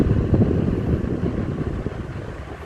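Steady, strong rush of air from a Mistral MHV90 high velocity desk fan blowing close by, a constant broadband whoosh with no talking.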